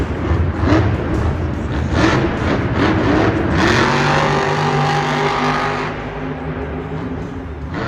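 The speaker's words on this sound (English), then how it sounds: "Opening that truck up to get some big air." Gravedigger monster truck at a Monster Jam event in Indianapolis, its engine roaring loud and close as it revs hard at full throttle, swelling midway then easing slightly toward the end.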